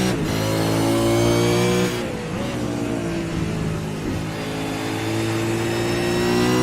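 Race car engine heard onboard in a sim racing game, revving hard through the gears with a sudden shift lift, then climbing again at a loud, sustained pitch.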